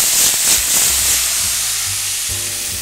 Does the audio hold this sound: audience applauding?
no